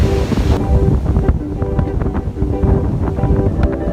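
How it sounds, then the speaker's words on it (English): Strong wind roars and buffets against the microphone in a constant rumbling rush, loud and close, with no voices, near Aoraki/Mount Cook, New Zealand. "it's going to be way too windy to camp here"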